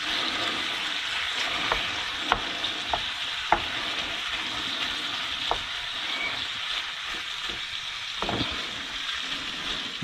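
Diced onion and bacon heating in a pan, a steady sizzle with occasional clicks and stirring scrapes from a utensil, close and continuous with no talk.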